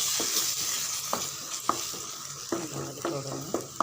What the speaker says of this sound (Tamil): மசாலா இன்னும் கொஞ்சம் நல்லா செவந்து வதங்கட்டும்